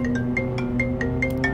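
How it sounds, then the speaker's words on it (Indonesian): A video game phone rings with a repeating electronic tone, short chirping beeps pulsing several times a second over a steady hum, close and clear with no talking. "Ada telepon."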